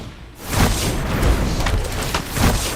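Explosion sound effect from the video game MTG Arena, a low rumbling boom that swells and holds over a few seconds with softer whooshing surges.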